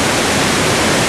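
Waterfall at Yabakei pours in a dense, steady roar of broadband rushing water, loud and close, with no voices.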